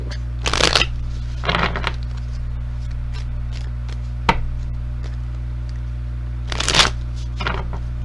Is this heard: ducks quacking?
no